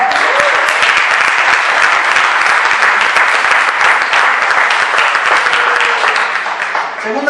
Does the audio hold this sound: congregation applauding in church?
yes